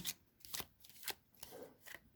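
Playing cards are shuffled in a series of soft, rapid riffles and flicks, close and fairly quiet, in irregular bursts with no talking.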